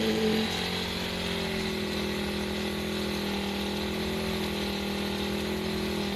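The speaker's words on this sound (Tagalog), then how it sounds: "hilain ng motor ang gagamitin dito na paghila ng kamatis" A motorcycle engine hauling harvested tomatoes on a farm runs steadily at a constant, even drone with no change in pace, close by and moderately loud throughout.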